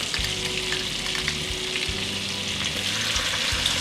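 Minced garlic frying in a pan for creamy shrimp scampi, a steady close sizzle and crackle with low rumbling stir strokes beneath, no voices.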